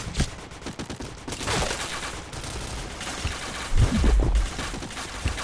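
Rapid bursts of automatic gunfire from the video game Point Blank rattle on continuously, loud and close, with heavier blasts toward the end and no talking.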